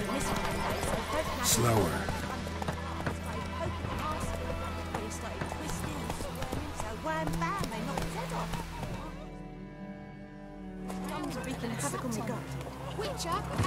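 Roach, the horse in The Witcher 3, moving in rhythmic hoofbeats under continuous game music and spoken dialogue, with a brief lull in the music near the end.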